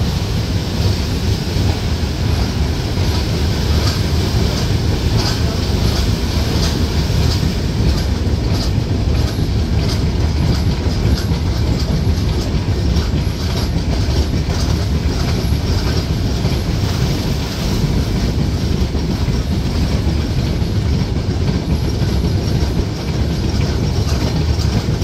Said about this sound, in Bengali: ট্রেনটি প্রবেশ করছে শিবচরে